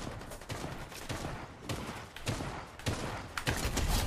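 Bursts of heavy Towhook sniper cannon fire crack out in quick succession, loud and close, with sharp repeated blasts over a busy game soundscape.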